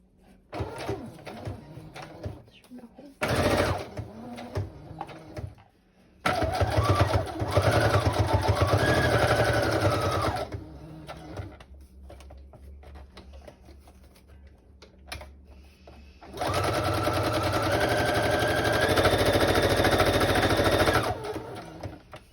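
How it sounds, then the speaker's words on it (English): Sewing machine stitching around three pocket edges on a decorated spiral journal page, with bursts of rapid close mechanical rattling separated by quieter pauses. "So I'm just going to sew around the 3 edges like so."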